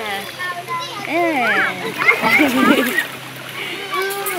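Children splashing and playing in a waterfall pool at Gunung Pulai, with bright kid voices and chatter over intermittent water splashes throughout.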